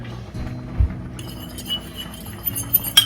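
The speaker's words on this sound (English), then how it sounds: "I'm gonna give that a little stir." A spoon stirs a sugar-free peach jam mixture with lemon juice and calcium water in a bowl, giving close, light clinks against the side, with a few sharper taps near the end.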